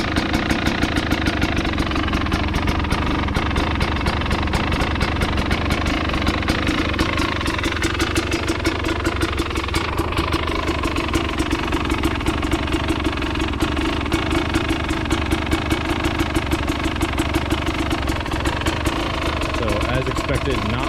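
KTM TPI motorcycle engine idling with the cold start off, a steady rapid putter with slightly uneven pulses, close and continuous.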